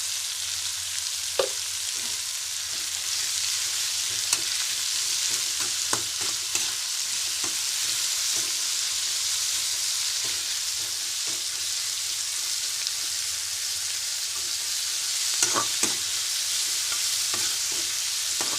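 Onions with a pinch of salt sauté in a pan for a Malabar egg roast, giving a steady soft sizzle throughout, broken by scattered clicks and scrapes of a spatula.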